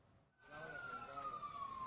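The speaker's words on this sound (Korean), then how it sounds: "사이렌이 울려 퍼지는 가운데 차량 한 대가 화염에 휩싸여 있습니다." At the scene of a car engulfed in flames after an Israeli strike in Lebanon, a siren wails faintly, with one slow, steadily falling tone over a low background rumble.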